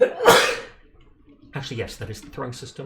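A single sharp sneeze bursts out close at the start, followed after a short pause by someone talking over quiet background.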